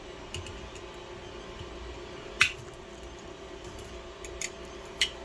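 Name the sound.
cutting coil wire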